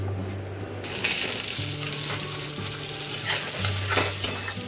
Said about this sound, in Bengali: এখানে বেগুনটা ভাজা হচ্ছে।